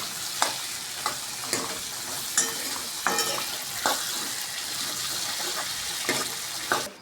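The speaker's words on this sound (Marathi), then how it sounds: "त्याला फ्राय व्हायले आलू हलवून घेऊया चांगल्या पद्धतीनं" Potatoes frying for aloo bhaji are stirred in a pan under a constant sizzle, with repeated scraping strokes of the spoon about once a second.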